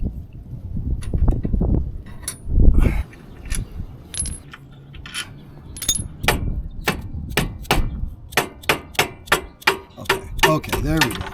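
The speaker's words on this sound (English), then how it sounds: "I'm going to take that bolt out from underneath there" Bolt being removed from the starter of a Victory motorcycle, with scattered metallic clinks and knocks, then a run of quick, regular ratchet-like clicks near the end, close and fairly loud.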